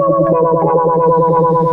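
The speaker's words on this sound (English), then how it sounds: "I've got this LFO on the auto filter going right now, which is giving us those kind of fun wobbles" A synth bass built from a Univox bass guitar sample, with an LFO sweeping an auto filter to produce steady, rhythmic wobbles in a thick, distorted, continuous loud tone.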